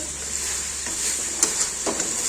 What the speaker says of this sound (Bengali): মশলাটা ভাজা হয়ে যাচ্ছে